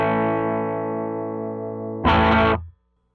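A clean electric guitar tone from a parts-built Jazzmaster-style guitar with Seymour Duncan Jazzmaster pickups, heard alone: one sustained chord rings and slowly decays, then a second, brighter strummed chord is cut off abruptly.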